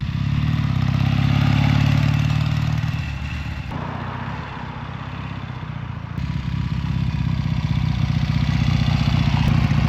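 A 1977 Triumph Bonneville 750 motorcycle engine runs close by, idling with a rough, throbbing clatter that rises and falls as it is revved, no talking.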